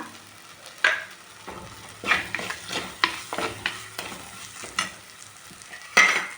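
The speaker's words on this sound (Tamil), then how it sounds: "நல்லா இஞ்சி பூண்டு வாசமெல்லாம் போகிற அளவுக்கு இந்த அளவுக்கு நல்லா வதக்கிக்குங்க" Mutton curry base of ginger and garlic sautéing in a pan, with repeated scraping stirs and sharp utensil knocks over a soft, steady sizzle.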